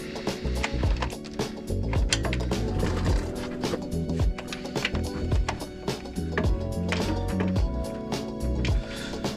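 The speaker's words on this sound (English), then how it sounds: "you're gonna put a ratchet on them and feel it with your hand tight" A ratchet cranks tie-down straps tight on a truck, giving repeated close clicking and clunking strokes in irregular bursts, with knocks and rattles of metal and wood between them.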